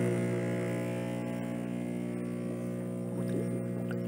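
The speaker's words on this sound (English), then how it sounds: "let's plug this little compressor in and see if it still works" A small air compressor meant for aerating a tilapia tank hums steadily and fairly quietly for a few seconds, a droning, motor-like buzz with no speech over it.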